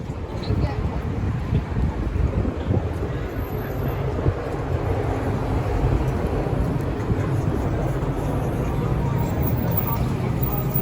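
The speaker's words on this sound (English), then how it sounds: "Hey, you're a subway train." A subway train in downtown Toronto rumbles past, a steady, loud, low roar with a windy hiss that holds for the whole stretch, with no voices.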